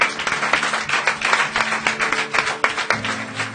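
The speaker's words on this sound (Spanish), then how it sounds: "Denle un fuerte aplauso al Señor." A congregation applauding during a church worship service, a dense burst of many hands clapping at close range, with a sustained tone entering near the end.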